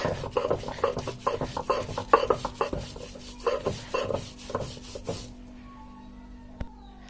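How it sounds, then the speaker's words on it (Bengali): Garlic and onion are ground into a paste for a Bangladeshi garlic vorta, giving rhythmic scraping and rubbing strokes close by. The strokes stop after about five seconds, leaving near silence with one faint tap. "এখন যে আমাদের পেঁয়াজটা রয়ে গিয়েছে সেটার মধ্যে দিয়ে ভালোভাবে বেটে নেব।"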